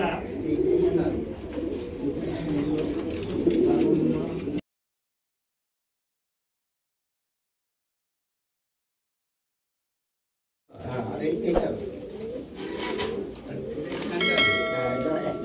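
Syrian dewlap fancy pigeons coo in low, throaty burrs close by, with voices talking over them, and the sound cuts out completely for several seconds midway before resuming.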